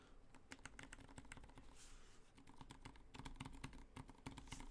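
Rapid, steady typing on a Duck Octagon v3 mechanical keyboard, a dense run of crisp close-up keystroke clacks with no talk.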